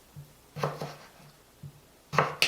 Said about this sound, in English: And then I'm just going to slice this